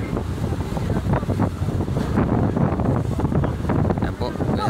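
Strong wind and rough waves on a small boat at sea, out where a buoy is being set, with loud, steady gusts buffeting the microphone over a continuous wash of water.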